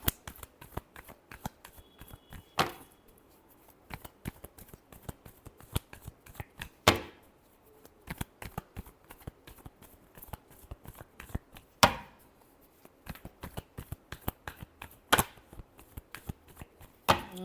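Tarot cards shuffled by hand up close, a long run of quick crisp riffling flicks with a few sharper snaps of the deck, steady and without talk.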